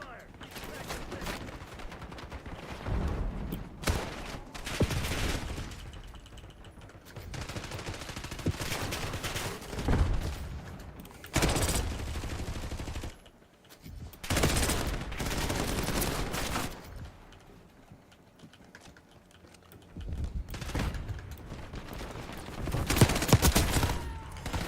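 Bursts of rapid automatic gunfire in Black Ops 6 hardcore multiplayer on a small map, loud repeated volleys separated by brief lulls, with voices talking in between.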